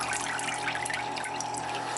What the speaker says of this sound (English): We'll pull her out of the water.